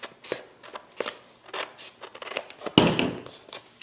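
Scissors snip through a layer of scrapbook paper for a sunburst page, giving a run of short, crisp cuts and paper rustles close to the microphone, with one louder crinkling handling noise near the end.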